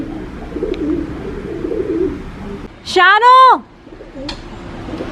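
A pigeon perched on a car gives one loud, close, throaty coo with a rolling series of notes, set against a quieter stretch of street noise and light background chatter, with a speaker voice heard briefly.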